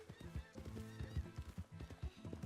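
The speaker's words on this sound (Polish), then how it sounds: "Więc jeśli zebra wydaje inne dźwięki niż koń" A zebra in the video game Red Dead Redemption 2 gives a horse-like whinny mixed with quick hoof clip-clops, all fairly quiet and close.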